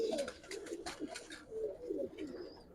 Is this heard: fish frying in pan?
no